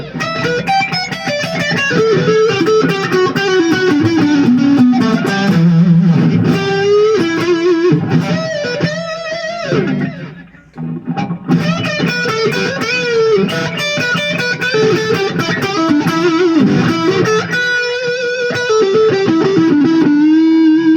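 Chibson Les Paul Custom electric guitar played through its original neck pickup with distortion, a continuous loud riff of sustained chords and notes that briefly pauses midway before resuming.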